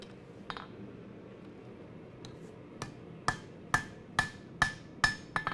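A hammer planishes steel for a chef's knife, striking about eight sharp ringing metallic blows at an even, quickening pace after a quieter start, close and clear with no talk.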